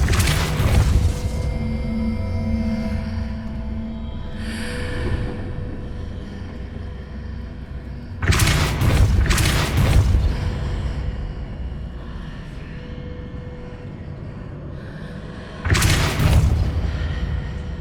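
Spell blasts in Hogwarts Legacy, including the Depulso spell, come as three heavy booming bursts spaced several seconds apart over a low rumbling game background, loud and close.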